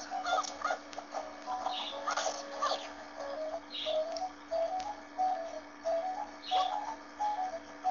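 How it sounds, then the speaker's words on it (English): Cuckoo-like cooing and chirping calls in The Legend of Zelda: Spirit Tracks, repeated short tonal notes in a lost woods area over a steady background hum, moderately loud and without talk. "Probably need that cuckoo."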